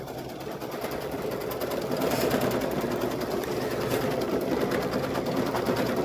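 An embroidery machine stitches a teddy bear face in white thread, a fast steady mechanical chatter that stays loud and even throughout, with no talking.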